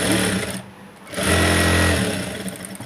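A sewing machine stitches cloth in a fast steady whir, stops briefly for about half a second, then runs again. The sound is close and moderately loud, with no talking.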